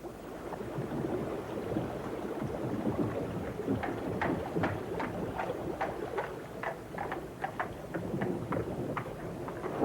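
A black stallion pulls a cart, its hooves clip-clopping in a steady rhythm that grows clearer midway, under wind and rushing water as a storm builds, moderately loud, with no one speaking.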